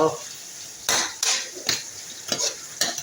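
A spoon clinks and scrapes against a pan while vegetables and tomatoes are stirred in a soft sizzle, in irregular close knocks over a faint frying hiss.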